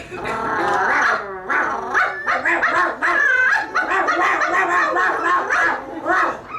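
Several dogs bark, growl and yip in a frantic, overlapping flurry, loud and close, with a few whimpers mixed in throughout.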